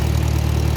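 A 1954 International Harvester McCormick Farmall Super C tractor engine idling close by, a steady low, even chugging throb with no voices.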